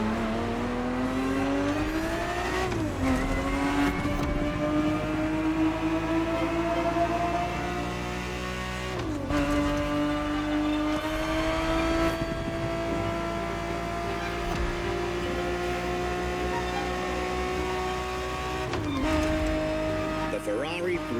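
A Ferrari 365 GTB4 in The Crew Motorfest on PS5 revs hard through repeated gear changes, the engine note climbing steadily and dropping at each shift, loud and continuous under a narrating voice.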